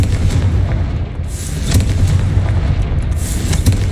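A Confringo blasting spell in Hogwarts Legacy goes off in loud, booming bursts that overlap with a rumbling low end across a few seconds.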